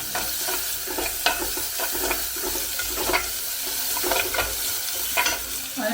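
Chopped shallots fry and sizzle in oil in a pan for egg kuruma, with steady crackling and repeated scraping stirs throughout, close and fairly loud.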